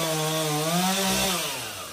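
A chainsaw roars close by, its engine pitch rising and falling briefly as it bites into wood.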